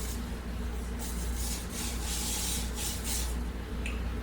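Hissing aerosol spray of furniture polish from a can in several bursts over a steady low background hum, fairly close, with short pauses between sprays.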